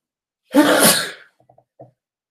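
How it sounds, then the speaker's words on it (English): A single loud, sharp sneeze up close, followed by a few faint breaths and small sounds trailing off. "This is why I don't read much, because it makes me sneeze."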